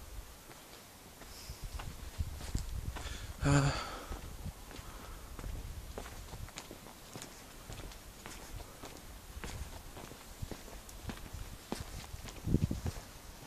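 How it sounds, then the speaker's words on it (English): Footsteps outdoors at night, heard as a steady, fairly quiet series of scuffing steps on the ground at some distance, with a sharper rustle now and then and no talking. "I can hear footsteps"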